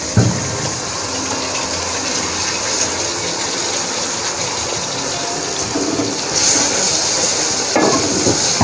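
Tomatoes cooking in a pan with chilli, turmeric and spices for a chicken kachnar curry give off a loud, continuous wet sizzle and bubbling, with occasional stirring scrapes, and no voices.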